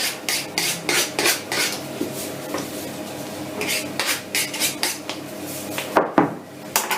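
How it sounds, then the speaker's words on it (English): A knife trims the pastry edges around a pie dish, making repeated rhythmic scraping and rasping strokes against the dish rim, close and fairly loud, with a clink near the end. "Just flatten it all down. Even out the top. Trim it off."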